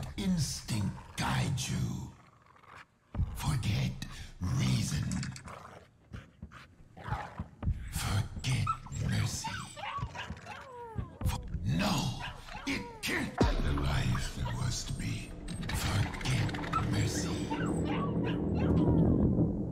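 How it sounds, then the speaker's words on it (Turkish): A dog yips, barks and whimpers in the horror video game Layers of Fear 2, with repeated excited cries and whines, loud and close, over ongoing game sound and some talk. "Köpekle savaş mı yapıyoruz?"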